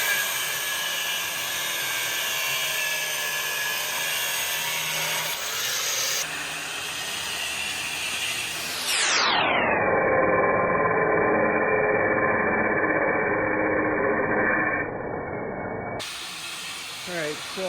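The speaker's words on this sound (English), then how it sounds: "he's grinding the bracket on the other side off" An angle grinder cutting a metal bracket off a farm planter in a shop, a loud steady whine that drops sharply in pitch mid-way and runs on as a lower grinding tone before rising again.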